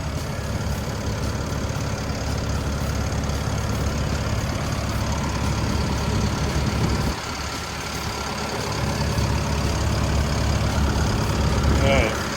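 The diesel engine of a 12-ton Hitachi ZX120-3 excavator idles steadily nearby with no abnormal noises, a constant low rumble that dips briefly and then swells slightly louder toward the end.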